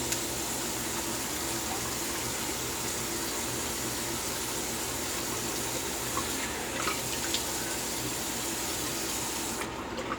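Tap water runs steadily and loudly over a double-edge razor in a sink, a continuous close rush with faint splashing changes near the end and no talk.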